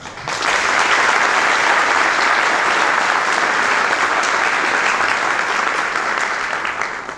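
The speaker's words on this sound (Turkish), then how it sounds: "Onun için şimdi hocaları alkışlama zamanı." Sustained, loud applause from a large audience honoring teachers at a medical faculty white coat ceremony, dense even clapping that swells quickly and holds steady for several seconds with no talking.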